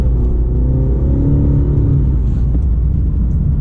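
A 2020 Cadillac CT5 Sport in Sport mode pulls away hard from a stop sign, its 275-horsepower engine giving a steady, close, low rumbling drone that climbs slightly in pitch as it accelerates.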